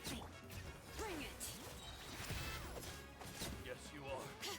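Female character's attack in a Genshin Impact story quest for Itto: repeated sharp smashing, thwacking hits with swishes, rapid and button-mash-like, mixed with game music and effects, under occasional talk.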